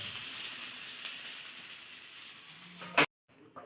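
Sesame seed tadka poured hot over a freshly made whole moong vadi, giving a loud steady crackling sizzle that stops abruptly after about three seconds, followed by a brief faint clatter.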